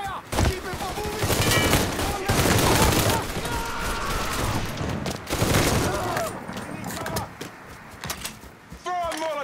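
Gunfire in the video game Mafia 3, dense bursts of shots and rapid fusillades close up and loud, with shouting voices mixed in among the firing.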